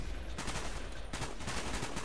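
Dense gunfire in Call of Duty: Black Ops, a steady barrage of shots layered over heavy battlefield rumble, loud and continuous for about two seconds with no voices over it.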